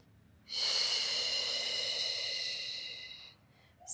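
A single long, close breath drawn in through the nose during a Pilates abs and core exercise, lasting about three seconds before a brief pause and the start of another breath.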